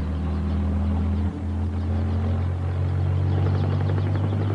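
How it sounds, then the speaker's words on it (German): A firefighting helicopter sounds overhead as a steady, loud low rotor and engine drone with a deep rumble, continuous throughout and with no voices. "Und Hubschrauber müssen helfen, denn die können von oben löschen."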